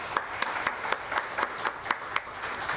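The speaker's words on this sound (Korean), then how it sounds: "우리 찬양팀과 성가대 찬양 받으시 하나님께 영광의 박수 올려드리겠습니다." A church congregation at a Sunday service at Onnuri Church in Osaka claps for the praise team and choir, a full, even round of applause with a few distinct claps popping out.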